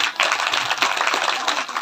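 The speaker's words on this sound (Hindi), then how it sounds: "तो आप सभी के लिए जोरदार तालियां।" An audience at a Hindu religious storytelling gathering, a Shiv Mahapuran katha, claps loudly and steadily in a dense burst of applause.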